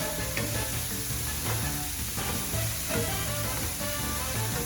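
Cauliflower rice frying with onions and garlic in a pan, giving a dense, continuous sizzle that stays even and close for the whole stretch, with no voices over it.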